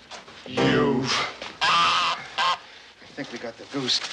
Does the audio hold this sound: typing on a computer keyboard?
no